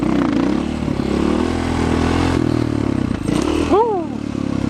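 Motorcycle coasting a wheelie, its engine droning steadily up close with wind rush, and a sharp rising squeal near the end.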